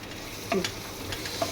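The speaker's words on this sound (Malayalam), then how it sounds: "പിന്നെ ബാക്കിയുള്ളത് ലിവർ ഫ്രൈ ഇങ്ങനെ വറ്റി കുറച്ച് നേരം കൂടി ഇങ്ങനെ നന്നായി വറ്റി നല്ല ഡ്രൈ ആവണം." Mutton liver fry sizzling in a pan as it cooks down until dry, a steady close hiss of frying with a few light clinks and stirring scrapes of a utensil.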